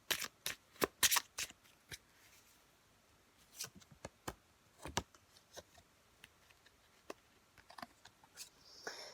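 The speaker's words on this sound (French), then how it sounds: "je vais nous tirer d'autres cartes" Tarot cards shuffled by hand in repeated crisp riffling bursts, close and fairly quiet, with short pauses between the flurries and no talking.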